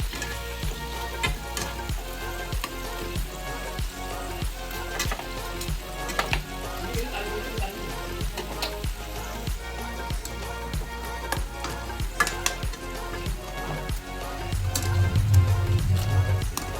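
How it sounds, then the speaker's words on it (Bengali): Stuffed snacks frying in oil give a continuous crackling sizzle, with repeated clicks and taps as the pieces are turned over in the pan, moderately loud and close. "দেখুন আমি উল্টে পাল্টে সব ভেজে নিচ্ছি, লাল লাল করে একটু ভেজে নিতে হবে যাতে একটু মচমচে খেতে লাগে।"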